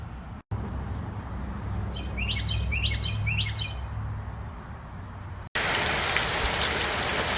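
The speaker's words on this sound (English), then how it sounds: "And more rain." Heavy rain pours down steadily with a dense, even hiss, while a bird chirps faintly in the background; the downpour grows louder after a short break near the end.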